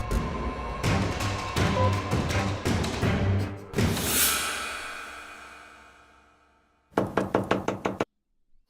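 Knocking on a house door in a Hindi crime drama scene, with dense music and bangs earlier, then a fast, loud series of about six sharp raps alone near the end.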